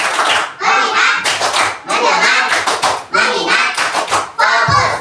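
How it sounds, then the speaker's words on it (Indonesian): Children in a classroom do a counting clap chant, several loud quick bursts of group clapping separated by short pauses, with young voices chanting along up close. "tepuk 1, tepuk 2, tepuk 3, tepuk 4, tepuk 5"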